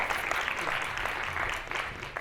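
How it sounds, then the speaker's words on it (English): A small audience at a stage presentation gives a loud round of applause for a speaker, a continuous wash of clapping with a few sharper claps standing out. "a big loud round of applause for Ash"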